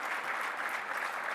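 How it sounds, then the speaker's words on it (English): A short burst of audience applause at a startup acceleration program event in Zagreb, a dense, even wash of clapping at moderate level with no voices over it. "Big applause for my colleague."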